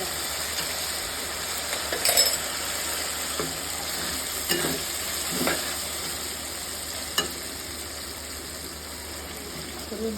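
Chicken korma stir-fried in a pan with onion and salt, giving a steady close sizzle across the whole stretch with scattered scraping stir strokes, the sharpest near the start and in the middle, and no voices.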